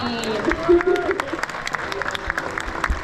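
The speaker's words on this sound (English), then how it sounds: "I love when people clap for them." Scattered clapping from onlookers rewards a crowned crane named Taji after its swooping flight at an animal ambassador show. The applause is light and uneven and runs under a presenter's amplified talk, with a few thin tonal sounds in the background.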